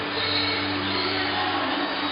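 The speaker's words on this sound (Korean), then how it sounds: "이상민을 연호하고 있는 전주체육관 관중들입니다" A basketball crowd in the Jeonju gymnasium chanting the name of Lee Sang-min during a 2004 KCC game, a dense, steady roar of many voices filling the arena, loud and continuous throughout.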